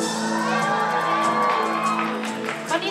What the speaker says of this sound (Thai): เอากรี๊ดดังๆหน่อยแล้ว